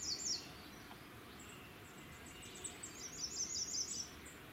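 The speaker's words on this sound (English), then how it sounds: "And here's the American redstart." An American redstart warbler sings a high, thin phrase of several notes outdoors, faint and distant over a steady hiss, with a couple of brief bursts.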